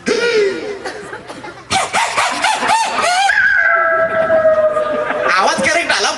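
In a Marathi comedy skit, a person's voice imitates a dog with loud, drawn-out howling cries, broken by short pauses, with laughter and talking around it.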